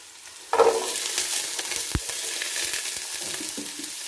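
Shallots hit hot oil with ginger while making chicken biryani, bursting into an abrupt close sizzle that settles into a steady frying crackle, with one sharp utensil knock midway.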